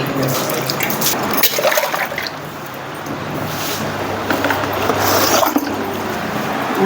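Running water soaks a cloth used to wash a person's face indoors on a hot day, a steady close splashing and trickling wash with small squishy wrings, heard on its own.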